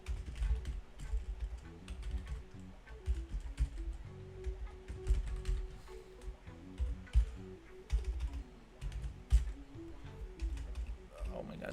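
Rapid, uneven clicks from typing on a Spanish computer keyboard, close and fairly quiet, with bursts and short pauses as keys are struck.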